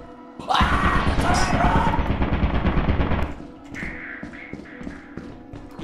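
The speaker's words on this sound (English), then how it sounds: "So, turrets. Turrets, you have to run by them very quickly. They have a short line of sight, but they shoot you very quickly." Turrets in the video game Lethal Company fire a rapid, loud burst of gunfire lasting a few seconds, followed by quieter game sounds while players talk briefly.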